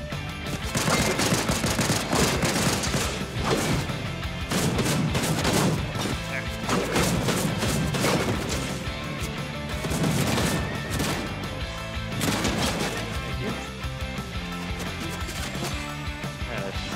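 Rapid automatic gunfire from a powerful gun in Fortnite, loud dense bursts that keep going with short pauses over about seventeen seconds, close and continuous with game sounds mixed in.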